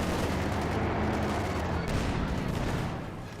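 A landmine going off in Company of Heroes 2, the blast folded into a constant roar of battle and gunfire. The din stays loud and dense throughout, then eases off slightly near the end.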